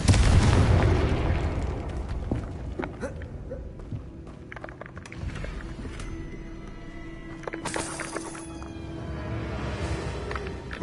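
Fiery Confringo spell blast in the video game Hogwarts Legacy: a loud booming burst opens, then smaller pops, crackles and thumps scatter across the rest, with a brief bright whoosh near the end.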